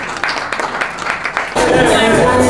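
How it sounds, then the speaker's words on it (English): Audience breaking into applause at a live music event, a burst of loud clapping that starts midway after a stretch of speech and holds steady to the end. "Can we please have a huge round of applause for them?"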